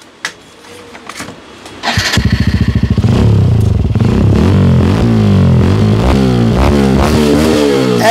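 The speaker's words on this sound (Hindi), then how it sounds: "अब दिखाता हूँ दूसरा जो कि मिलेगा आपको R9 का, इसकी भी साउंड सुनते हैं कैसी आने वाली है इसके अंदर।" Hero Xtreme 125R motorcycle fitted with an R9 aftermarket exhaust starts up close by after a few clicks, then settles into a loud, throbbing idle with repeated throttle blips.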